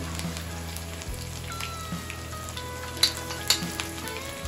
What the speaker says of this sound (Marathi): आणि आता आतमध्ये जाते मिरची.